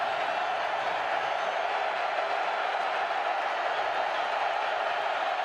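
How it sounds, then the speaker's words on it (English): Piped-in crowd noise at a college football game between Sacred Heart and Montana forms a dense, steady roar with faint cheering and clapping, continuous and unchanging throughout. "And that crowd noise is really getting piped in here."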